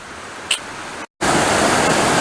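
A waterfall heard from right up close makes a dense, loud, steady roar. A short break of silence cuts in midway before the rushing water resumes even fuller.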